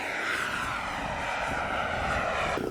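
A Seagull Models Shock Cub RC airplane's engine drones steadily, a loud, close, buzzing whine with a sustained pitch, with no one talking.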